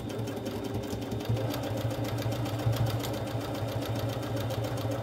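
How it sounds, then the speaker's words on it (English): A sewing machine runs steadily, stitching along a marked line on a fabric storage bag, its fast even needle rhythm close and continuous with no talking. "And we sew down directly on the line again."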